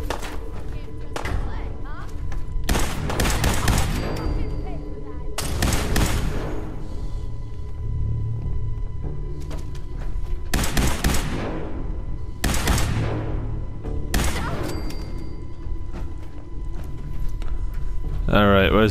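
Gunfire in Fallout 4 rings out as a handful of loud, sharp shots, each with a decaying tail, spaced irregularly over constant game ambience while someone talks throughout.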